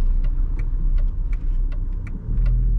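A 2000 Volkswagen Passat B5 rolls slowly and pulls over to park, its engine running steadily at low speed with light road and tyre noise and a few faint clicks, no voices.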